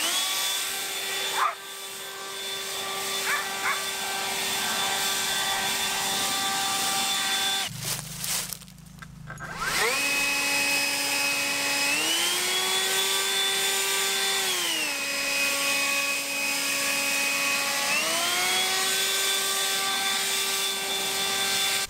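A Toro 60V battery leaf blower runs on turbo boost, a loud steady whine that cuts out briefly, then returns and rises in pitch twice as the motor surges, close by with no talking.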